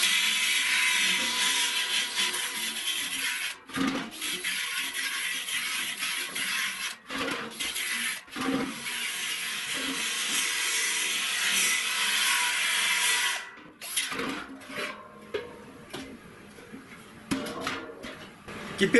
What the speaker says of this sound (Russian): Остатки силикона хорошо снимаются вот такой нейлоновой щеточкой.